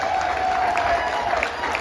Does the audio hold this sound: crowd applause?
yes